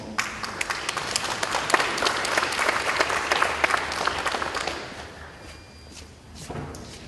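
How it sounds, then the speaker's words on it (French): Applause from the audience at an agricultural innovation forum roundtable, dense clapping that holds steady and then thins out and fades toward the end. "Sous vos applaudissements."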